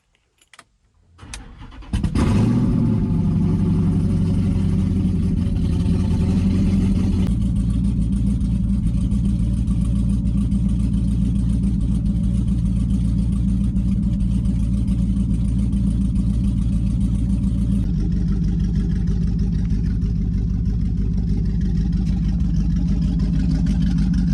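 Swapped 5.7 HEMI V8 in a 2008 Dodge Charger on its first start: a few clicks, then the engine cranks and catches into a loud, steady idle, with small shifts in tone as it settles, close up and without talk.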